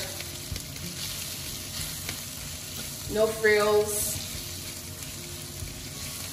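Carrots sizzle and crackle in a hot pan, swelling louder briefly as they are stirred, while a voice speaks a few words.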